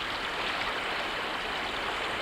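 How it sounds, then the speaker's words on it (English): Water rushes steadily over a beaver dam in a pond, a dense, even roar with no pauses and no voices. "the sound of rushing water"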